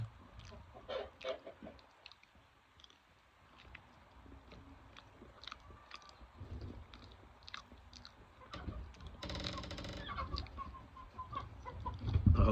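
Rooster clucking in a quiet outdoor setting, scattered short faint clucks and calls spread across the stretch with some rustling and a louder burst of noise toward the end.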